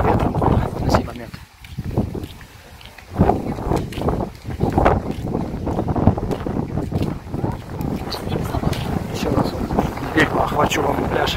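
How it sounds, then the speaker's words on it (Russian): Strong wind buffets the microphone at a seaside beach in the Solonyky settlement near Lazarevskoye, Sochi, a loud steady roar that runs throughout, with someone talking over it. "людей очень мало, а ветра много на сей момент"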